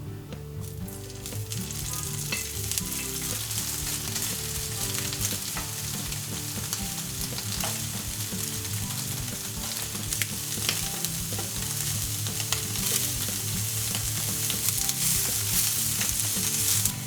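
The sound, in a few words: tofu frying in oil in a pan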